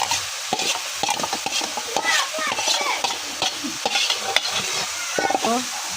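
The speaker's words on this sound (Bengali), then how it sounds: "এই যে পেঁয়াজের পাতা তেলের মধ্যে দিচ্ছি। এখন দিব চান্দা মাছ।" Spring onion leaves and small chanda fish fry in hot oil, giving a steady crackling sizzle with scraping stirring strokes throughout, close and moderately loud.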